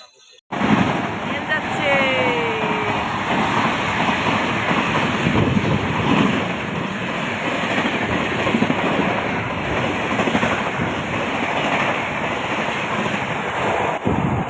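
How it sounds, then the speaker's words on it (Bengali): A through train on an Indian railway line speeds past close by. It makes a loud, continuous rushing roar with rattling wheels that lasts the whole stretch after a sudden start. "ঝড়ের গতিতে বেরিয়ে গেল ট্রেনটা"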